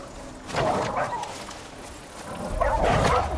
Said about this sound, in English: We got a thunderstorm going on here at my house, so my dogs are freaking out.